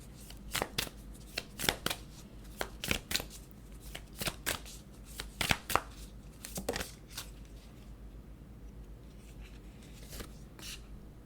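Tarot cards shuffled by hand in a steady run of crisp riffling slaps and flutters, close and fairly loud, with no voices, tapering off near the end.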